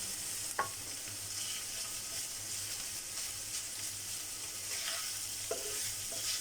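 Green chilies and half a tomato frying in oil for homemade noodles, a faint steady sizzle with a few sharp spatula taps and scrapes scattered across it, no speech.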